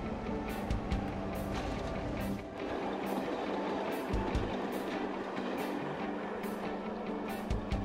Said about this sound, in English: The test rake coasts the final 1 km to the stationary vessel for the collision to take place